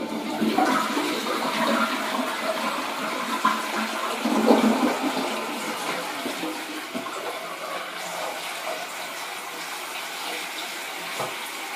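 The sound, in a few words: newly installed toilet flushing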